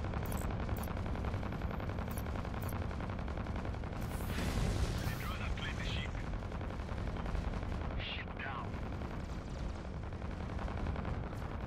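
Ship weapons in the Fractured Space space game, rapid bursts of heavy fire with booming impacts, loud and steady, with a voice speaking faintly now and then.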